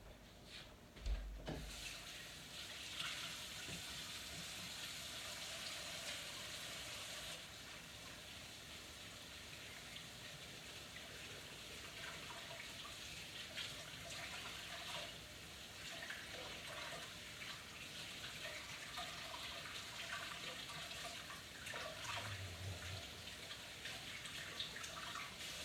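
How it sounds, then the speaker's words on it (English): A kitchen tap runs steadily for hand washing, a continuous broadband water rush at moderate level lasting throughout, with a brief clatter near the start and no talking. "I need to wash my hands."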